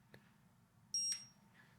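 A single short, high electronic beep from a LOXP wallet tracker card, faint and isolated, with a quiet click before it in an otherwise hushed room.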